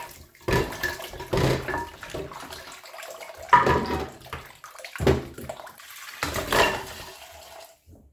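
Water splashes in short bursts as a bone for broth is rinsed under a running stream, several separate gushes with brief pauses between, close and fairly loud.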